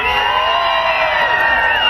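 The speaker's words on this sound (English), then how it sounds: "How many of you are from outside of Maryland? Let's hear you cheer." A rally crowd at an anti-fracking demonstration in Baltimore, Maryland, cheers continuously with whoops and shouts, a loud, dense wall of voices held steady throughout.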